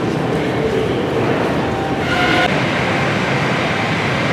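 Moscow Metro subway train running steadily on its rails, a loud continuous rumble with faint clickety-clack and a brief rise in the middle, without speech.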